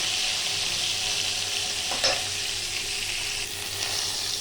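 Pointed gourd (potol) pieces fry in oil with a little turmeric, giving a steady, close hissing sizzle throughout, with a brief stir or clatter near the middle.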